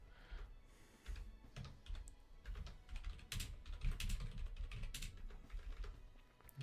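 Typing on a computer keyboard, close by and fairly quiet. Key clicks come in uneven bursts of fast taps with short pauses between them, and no voice is heard.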